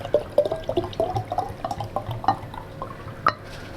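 A plastic bottle of water with dissolved apple-flavored drink powder being shaken, giving quick irregular sloshes and small knocks, fairly close and moderately loud.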